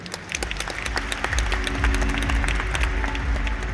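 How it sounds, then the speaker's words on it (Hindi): An audience claps on cue for guests from Manipur, a burst of distinct claps from many hands over a low rumble, growing slightly fuller as it goes. "पहले अभी बजाओ उनके लिए ताली."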